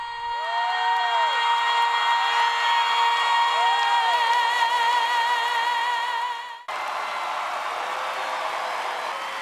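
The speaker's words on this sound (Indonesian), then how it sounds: "Tepuk tangan membahana ketika Putri menyelesaikan lagunya" Loud, sustained applause and cheering from a large theater audience as a singer finishes a song on a televised talent show stage, continuing steadily with a sharp cut partway through.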